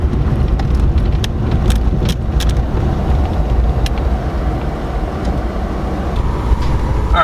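Steady rumble of a car driving along a road, heard from inside the cabin, with constant broadband road and engine noise and a few faint clicks throughout.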